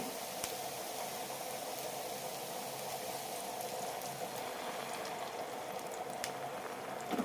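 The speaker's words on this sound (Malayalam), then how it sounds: "ഇനി ഇതിലേക്ക് കുറച്ച് വെള്ളം ഒഴിച്ചിട്ടൊന്ന് വേവിച്ചെടുക്കാം." Banana pieces simmering in ghee with added water in a pan give off a steady, soft bubbling hiss with faint pops, even and unbroken throughout.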